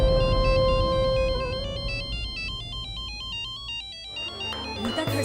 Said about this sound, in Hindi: घर से फोन आ रहा है